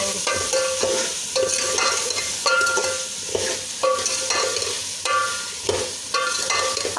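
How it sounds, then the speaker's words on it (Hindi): Spiced potatoes fry in a pan, a close steady sizzle broken by repeated rhythmic scraping strokes of a spoon stirring them. "आलू हमारे जो है वो भुन गए हैं तकरीबन, थोड़ा सा इनको और फ्राई करेंगे हम"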